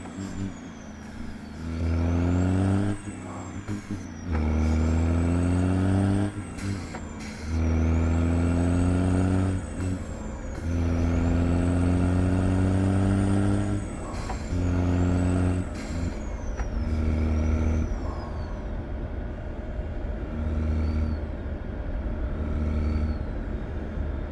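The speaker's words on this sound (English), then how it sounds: "You love to hear the Cat C16. Yeah, man, sweet engine" A heavy Cat C16 truck engine in American Truck Simulator drones loudly with repeated revving surges and pitch sweeps as it shifts gears, with brief drops between pulls.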